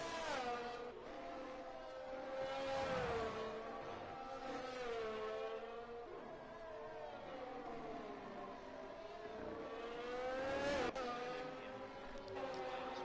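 F1 race cars in the Hungarian Grand Prix of a video game pull out of the pit box, their engines whining and shifting pitch continuously, rising and falling as several cars accelerate, heard at a moderate, steady level.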